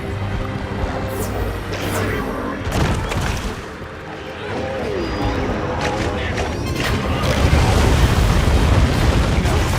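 A monster in Monster Hunter Wilds spits out oil and ignites it, erupting in booming, roaring bursts of fire and explosions amid a chaotic battle mix, with a voice talking over it.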